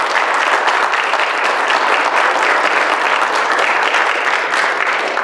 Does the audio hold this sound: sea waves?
no